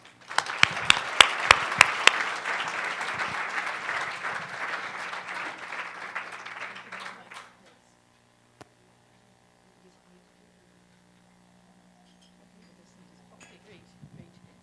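An audience at an annual orientation evening welcomes a speaker with warm applause. A few sharp claps open the clapping, which holds steady for several seconds and then stops abruptly. Quiet room hum and faint clinks follow.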